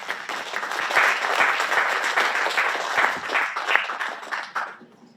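An audience at a civic arts and fair-finance declaration event in a citizens' center applauds to welcome a speaker, with dense, moderately loud clapping that swells and holds for several seconds before tapering off.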